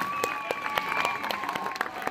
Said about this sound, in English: round of applause for Brian Miller and his team as well